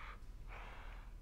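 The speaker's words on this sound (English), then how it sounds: "I heard something like breathing on my left ear" Breathing comes over voice chat in the left ear as two soft, close breaths, each a brief airy rush, faint and with no speech.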